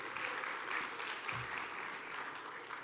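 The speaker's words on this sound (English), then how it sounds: "please give her a round of applause for that" Applause from an awards-gala audience honoring a pet-industry entrepreneur, a steady wash of many hands clapping at moderate distance without a break, with a faint low thump partway through.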